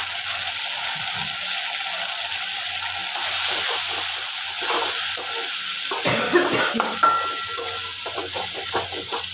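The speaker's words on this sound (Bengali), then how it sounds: "ভালো করে কষিয়ে নেব মশলাটা কষানো হয়ে গেছে" Spice paste for chhanar dalna sizzles in a pan as a spoon stirs and scrapes it, with irregular close scraping strokes over a soft frying hiss and no speech.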